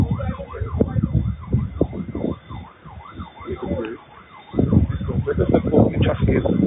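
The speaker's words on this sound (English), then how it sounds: "Not ambulance, but sirens in the distance again approaching." Emergency vehicle sirens wail in repeating rising-and-falling cycles from a distance near a police homicide scene, heard over rumbling traffic that drops away briefly mid-way.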